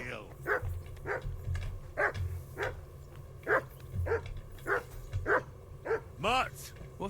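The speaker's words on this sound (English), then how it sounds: "That barking was a pain in the ass." Repeated dog barks in the game Kingdom Come: Deliverance II, about nine sharp yaps at a steady pace over low background music, fairly close and moderately loud, with a whining, rising bark at the end.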